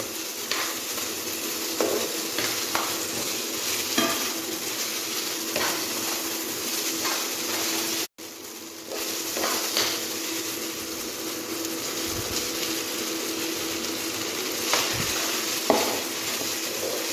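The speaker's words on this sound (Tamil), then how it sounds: "நாம் எடுத்து வைத்திருந்த சோற்றை அதனுள் கொஞ்சம் கொஞ்சமாக இட்டு இவ்வாறு கிளற வேண்டும்" Cooked rice is stirred into a sizzling tomato mixture in a pan, a steady frying hiss with soft scraping and occasional clinks of the spoon against the pan, with no talking.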